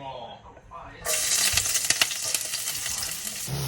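Garlic dropped into hot olive oil bursts into a bright, close sizzle after a quieter opening with faint talk, then keeps crackling steadily.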